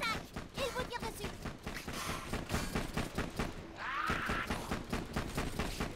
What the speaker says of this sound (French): Une horde de squelettes vous attaque! Ils vous tirent dessus!